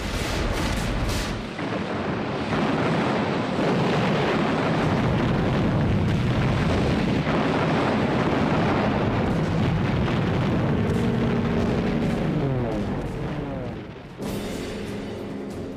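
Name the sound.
air and naval bombardment explosions, WWII Iwo Jima footage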